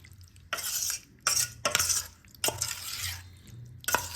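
A spoon stirs yogurt into a paneer curry mixture in a metal pot, giving several bursts of scraping and clinking with soft sizzling between them, close by and with no talk.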